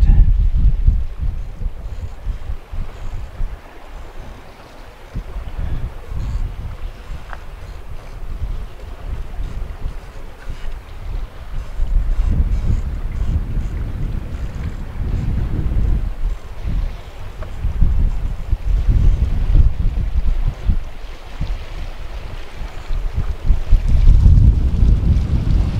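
Strong wind roars and buffets continuously while sailing a pontoon boat rigged with a small Snark sail on Pokegama Lake, with gusts rising and falling and water sloshing faintly beneath.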